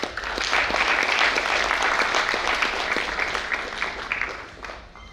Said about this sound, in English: Let's continue to welcome our dignitaries with a thunderous round of applause